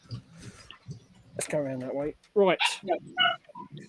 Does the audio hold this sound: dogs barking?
yes